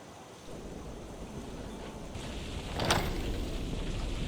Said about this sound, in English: I do kind of hope that it doesn't rain quite this consistently all the time